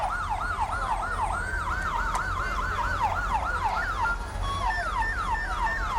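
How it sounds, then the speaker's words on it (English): Fire apparatus sirens wailing during an October fest parade in 1989, several overlapping rising-and-falling wails that sweep up and down continuously, loud and fairly close over a steady low rumble of vehicles and crowd. "they're using this particular part of the parade as their siren test route"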